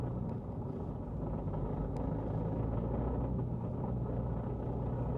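Supercars gathered for a road rally in the Dolomites give off a continuous deep engine rumble, steady and fairly loud, with a low droning bed and no speech.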